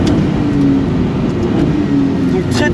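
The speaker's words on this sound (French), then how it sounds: "L'accélération est folle, alors tu as 0 à 100 en moins de 2 secondes 9." A Maserati MC20 with its V6 biturbo engine accelerates hard, a loud continuous low engine drone with a rising tonal whine, heard from close inside or near the car.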